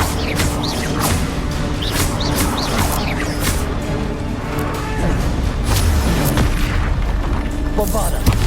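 Booming spell blasts from the Bombarda curse in Hogwarts Legacy burst repeatedly through a dense, continuous wash of game music and combat effects.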